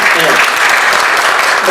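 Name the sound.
audience applause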